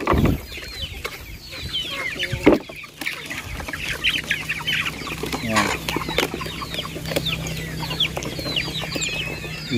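Chickens and chicks on a farm cluck and peep in quick irregular bursts, close by, with one louder squawk near the start and a low hum running underneath.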